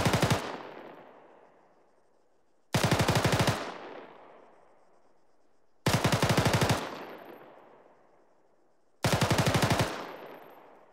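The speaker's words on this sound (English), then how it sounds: "So you got 5 to 10 rounds every 2 to 3 seconds." A SAW light machine gun fires four loud bursts of roughly five to ten rounds each at a rapid rate, each burst ringing out and decaying into echo before the next follows a few seconds later.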